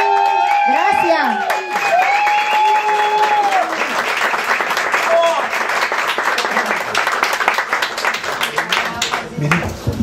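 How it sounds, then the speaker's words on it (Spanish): Audience applause and some cheering for a student stand-up comedian at a comedy club, dense clapping that swells and holds through the stretch while a voice speaks over the start. "Aplauso, aplauso, aplauso para Nayide Agüero."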